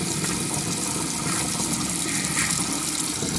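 Water runs steadily from a faucet in a Roadtrek Popular RV during tank filling and sanitizing, a continuous close hiss and splash with no talking over it.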